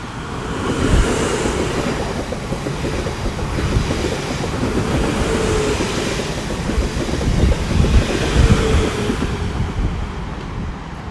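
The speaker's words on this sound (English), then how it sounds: "about to come through now via South Western Railway service to London Waterloo" A South Western Railway passenger train bound for London Waterloo passes close by on the main line at Millbrook, a loud continuous rumble with clickety-clack wheel beats and wind buffeting the microphone, no voices.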